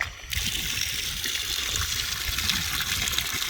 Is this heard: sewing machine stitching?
no